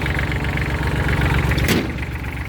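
A 2008 Kubota L3408 tractor engine runs steadily at idle, a close, even diesel rumble with a brief rising whoosh partway through and no talking.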